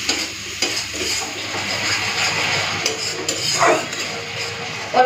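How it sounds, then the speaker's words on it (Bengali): Spices stir-fried in a little oil for a tangra fish curry, a steady sizzle with repeated scraping of a spatula against the pan, close and fairly loud. "সব মশলাপাতিগুলো দিয়ে দিই, তারপরে মশলাটাকে ভালো করে কষে নেবো।"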